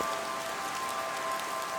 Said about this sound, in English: The soft patter of rain against the window